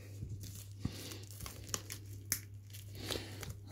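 Limited-edition boxset packaging being cut and torn open, soft crinkling and tearing of plastic wrap with a few sharp crackles, quiet and close, over a low steady hum.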